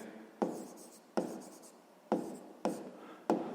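Pen writing on paper during a sixth-grade maths exercise, close and quiet: five separate bursts of scratchy strokes, each starting sharply and trailing off, with short pauses between.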